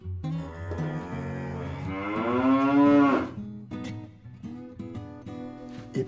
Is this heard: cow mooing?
yes